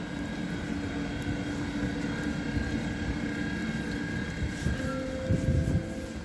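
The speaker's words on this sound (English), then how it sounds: "Taking this train to Frankfurt." A regional passenger train rides toward Frankfurt, Germany, its steady rumble and rolling hum filling the carriage, with a faint tonal whine rising slightly toward the end.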